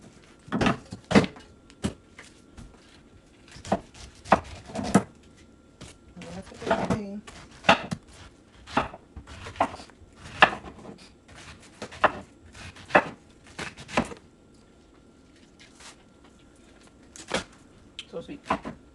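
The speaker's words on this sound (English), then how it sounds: "See, I'm cutting it very small, and they're super sweet." Knife chopping pineapple into small pieces on a board, a run of sharp, irregular close taps with pauses, while someone talks between cuts.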